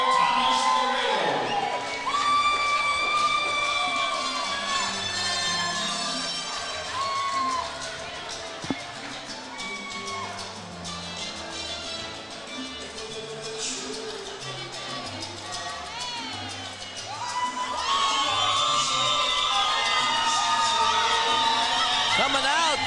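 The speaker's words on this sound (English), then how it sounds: "Coming out to the cheers of the crowd, Hollywood Thomas Laredo" Crowd at an amateur MMA cage fighting event cheering and whooping as a fighter walks out, a sustained roar with shrill shouts and an announcer's voice talking over it, swelling again near the end.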